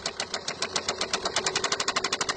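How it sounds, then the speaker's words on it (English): A BMW 3 Series F30 diesel engine runs with a steady, rapid metallic bearing knock, evenly spaced taps repeating over its idle rumble, loud and close. "when you get a knocking noise from the engine like this"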